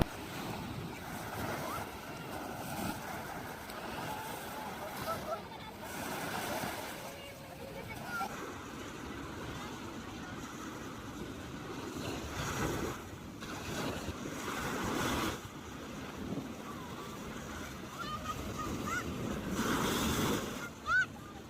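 Ocean waves at Patar Beach in Pangasinan, surf washing in and out in soft surges with wind buffeting the microphone, while people talk nearby.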